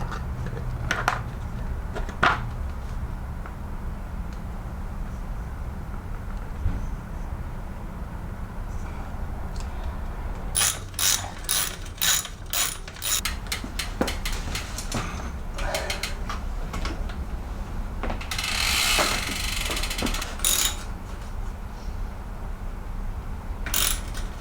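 A ratchet tightens the crank bolts on a Commencal Meta HT hardtail mountain bike, clicking in quick close runs of ratcheting strokes with pauses, over a low background hum.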